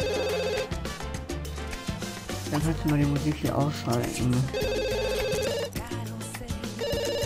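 A telephone rings in The Sims 2 game, its repeated electronic trill pulsing in bursts over game music while people talk.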